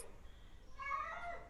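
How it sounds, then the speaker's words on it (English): A house cat gives a single drawn-out meow that rises and then falls. It is fairly close but not loud and follows a short quiet stretch, with no talking. "That was the cat."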